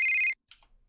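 Phone ringtone from a visual novel video game, a bright electronic warble pulsing in quick bursts, clear and loud, then cutting off abruptly into a short rustle.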